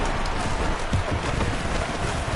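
Rain falls over the stadium in a Seahawks versus Cowboys American football video game, a steady, dense hiss with no break and no talk.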